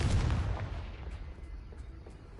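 A Confringo blasting spell explodes in a magic-themed video game: a single muffled, low boom at the very start, fairly quiet, that fades into a soft rumbling tail.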